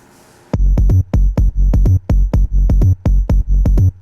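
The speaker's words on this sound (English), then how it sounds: "It's like just a bouncy bass." Punchy, bouncy synth bass processed with OTT plays a quick repeating rhythm of short, deep notes, loud and up close, with no voices.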